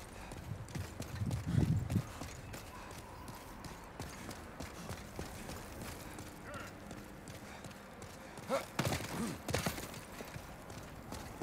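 Footsteps in Demon's Souls inside a castle, steady clopping treads under echoing ambience, a few louder thuddy impacts standing out near the start and toward the end.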